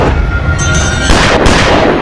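A gunshot sound effect from a dramatized television horror reenactment comes as a loud, booming burst. It is followed by dense, sustained rumbling noise that swells again partway through.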